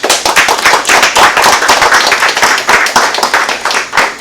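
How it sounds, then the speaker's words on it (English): An audience claps loudly and densely for the St. Kitts Sugar Mas representatives back from Panorama in Trinidad, a continuous close-up burst of many hands with no voices over it. "you deserve a big round of applause"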